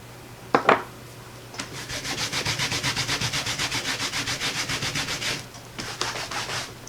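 Stamp being scrubbed clean of ink on a Stampin' Scrub pad, a steady run of rhythmic rubbing strokes, close and fairly loud, after a couple of sharp taps and before a few final scrubs.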